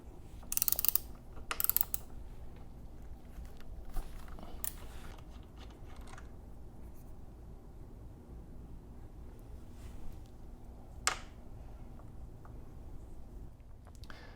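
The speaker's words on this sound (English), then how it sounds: "We're going to start by taking off the wheel rotation sensor, and that's with the 6mm Allen bolt right here." A hex wrench works a 6mm Allen bolt on the front wheel rotation sensor of a Kawasaki Ninja 1000, giving quiet close metallic clicks and ratcheting ticks, with a few sharper knocks early on and no talking.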